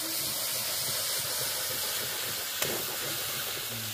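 Ginger, green chilli and cumin paste sizzles in hot oil with a loud, steady, close hiss that fills the whole stretch without pause, broken only by a single faint click.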